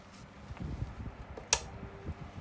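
Electric bedroom fan running on low speed, an old but still-working unit giving a faint, uneven low rumble with a single sharp click partway through.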